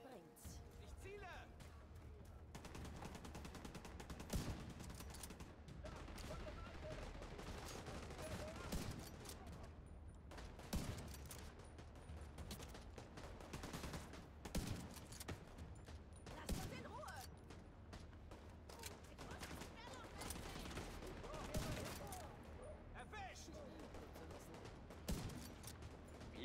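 Steady bursts of gunfire from the video game The Division, with sharp repeated shots and rattling volleys over a dense, loud combat backdrop, while someone talks throughout.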